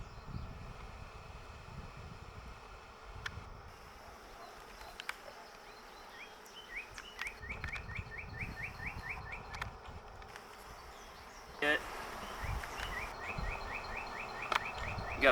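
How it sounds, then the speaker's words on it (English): A wild honey bee swarm buzzes steadily close to the microphone, with scattered bumps and handling noises and some wind. "I mean, just bees down in there galore."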